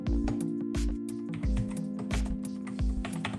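Fast, irregular keystrokes on a computer keyboard, close and crisp, come in quick clusters with short pauses and no speech.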